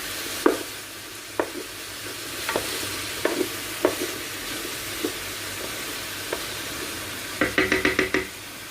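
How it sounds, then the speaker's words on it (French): Green and red bell peppers fry with chicken for paella under a low, steady sizzle, broken by sharp spatula knocks against the pan and a quick run of scraping strikes near the end, close and without voices. "je vais ajouter maintenant mes poivrons verts, mes poivrons rouges et je vais faire revenir"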